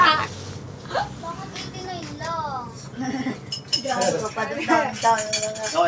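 Plates and cutlery clink and clatter repeatedly while lunch is served at an outdoor hut gathering, with people chatting and calling to each other throughout.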